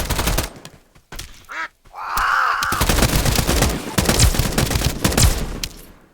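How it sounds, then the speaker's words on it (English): Gunfire with armor-piercing bullets in the video game Escape from Duckov, loud rapid bursts close by, broken by short pauses and mixed with duck quacks. "I'm using armor piercing bullets."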